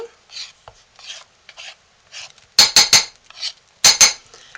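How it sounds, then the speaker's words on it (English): Metal spoon scraping against the sides of a soap-making pot, a series of short gritty scrapes building to several loud, sharp bursts near the end, with no talking. "We're going to scrape down our spoon"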